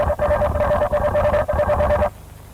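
A robot dog swarm communicating: rapid electronic chirping with a steady high tone, warbling in quick bursts for about two seconds before cutting off abruptly.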